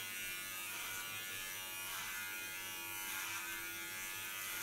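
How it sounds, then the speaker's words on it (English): Electric hair clipper buzzing steadily and close while cutting hair short during a haircut, a continuous motor drone with a faint tonal hum and slight loudness swells as it moves through the hair, no talking. "Doing only the first line and then gonna work with a clipper"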